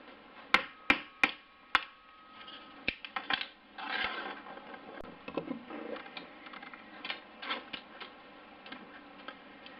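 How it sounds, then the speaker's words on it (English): Cane being split by hand for an Uilleann pipe chanter reed, a series of sharp close taps and cracks, first spaced and rhythmic, then a looser run of clicks, rustles and splitting sounds, quiet overall. "We'll split the cane in the usual way to the usual width"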